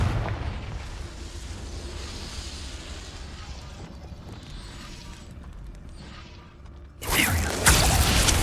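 In Hogwarts Legacy, a Confringo blasting spell bursts into a loud, roaring explosion near the end, after a long stretch of rumbling battle ambience.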